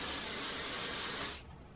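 A continuous, close hairspray aerosol hisses steadily for over a second, then cuts off, leaving faint room noise.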